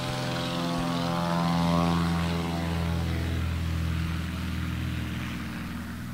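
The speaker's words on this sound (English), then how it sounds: "He's in a 1953 Cessna 182B." A 1953 Cessna 182B propeller airplane taking off at a STOL demonstration, the engine roaring and droning with a strong buzzing tone that swells and then slowly fades as it pulls away.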